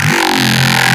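A short, loud burst of gritty bass synth, distorted with overdrive, growls and wobbles for about a second, with no voices.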